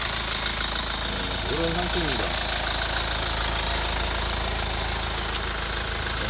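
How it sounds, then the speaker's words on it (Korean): A Kia Sportage R diesel engine idles with a steady, close rumble and light knocking throughout, while someone speaks briefly over it. "뭐 전형적인 디젤 소리에"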